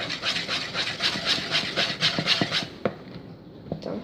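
Crêpe batter being mixed in a bowl with a Tupperware spatula: rhythmic scraping and sloshing strokes, about two per second, close and fairly loud, then slowing to a few isolated scrapes.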